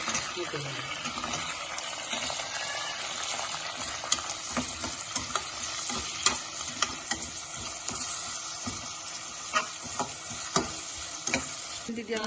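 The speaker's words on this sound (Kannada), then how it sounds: "ಎಣ್ಣೆ ಬಿಸಿ ಆಗಿದೆ. ಪುದೀನ ಹಾಕ್ತಾ ಇದ್ದೀನಿ. ಈರುಳ್ಳಿ ಇಟ್ಕೊಂಡಿದ್ದೀನಿ." Mint and onion fry in hot oil for a mutton biryani, giving a constant close sizzle with frequent clicks and scrapes of a spoon stirring the pan.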